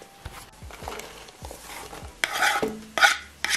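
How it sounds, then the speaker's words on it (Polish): Diced potato and leek stirred into frying bacon in a pan, scraping utensil strokes against the pan with a steady sizzle beneath, close and fairly loud, ending in a few harder clattering scrapes. "teraz dorzucamy właśnie ziemniaka oraz pora do boczku. Posmażamy przez około 2-3 minutki"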